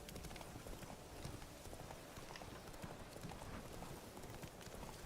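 Hooves of Roach, Geralt's horse in The Witcher 3, clatter in a steady galloping rhythm for the whole stretch, dense and fairly close over a busy game soundscape.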